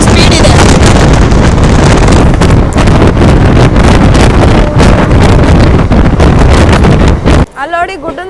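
A SSS Hubballi MEMU express train runs at high speed, and wind roars steadily past an open window with a loud, close, rumbling rush that drops off abruptly just before the end.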